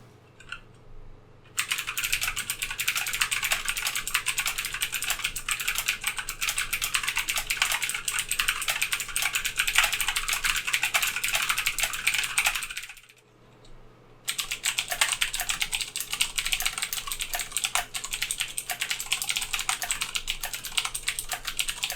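Typing on an Aukey KM-G3 slim mechanical keyboard with brushed metal backplate and clicky Outemu Blue switches, a fast continuous clatter of keystrokes in two long runs separated by a brief pause.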